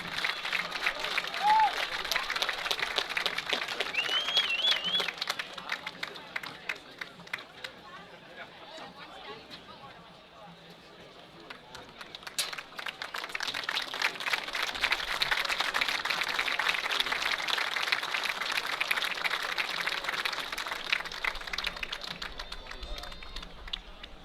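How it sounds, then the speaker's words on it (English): Sustained applause and cheering from a large crowd at a Coast Guard vs Catholic college football game, loud and continuous, dipping briefly in the middle before swelling again, with background chatter. "one more round of applause for our national caliber athletes and coaches"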